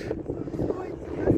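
Rough, buffeting wind on a hilltop in Vladivostok rumbles steadily against the microphone, loud and close throughout the short stretch.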